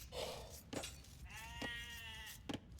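Sheep bleat during a sheep raid in a strategy video game match on the Khosrau map, several faint wavering bleats under low game ambience and sound effects.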